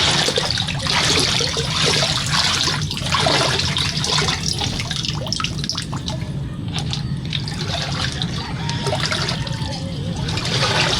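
Floodwater flowing like a stream through a garden planted with grapes and mulberry, a loud continuous rushing and gurgling close by with no break.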